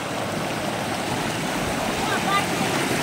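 A mountain river runs over slippery stones in hill country, producing a steady, full rushing noise that stays constant and close throughout.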